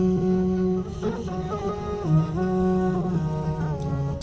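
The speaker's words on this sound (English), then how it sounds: "With the auto-tune, with the delay on it, it sounds something like this." A close, sustained sung voice processed with auto-tune and delay snaps between steady pitches in stepped jumps, its tones blurring into trailing repeats over about four seconds, with no speech.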